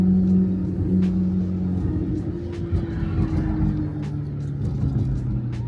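A Chevy car rolling over a series of bumps, with a steady low engine and road rumble throughout and faint scattered knocks from the suspension.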